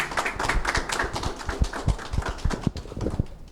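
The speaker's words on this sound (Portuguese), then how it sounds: "Mais uma salva de palmas" A congregation gives a round of applause at the opening of a new Assemblies of God church branch in Alagoas, Brazil, with sharp, uneven claps that thin out toward the end, heard close with no talk over them.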